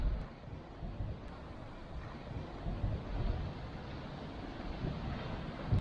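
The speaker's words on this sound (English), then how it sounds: "Just the waves breaking" Mediterranean waves breaking on the shore at Nafplio, Greece, a steady wash of surf mixed with wind buffeting the microphone, with no voices.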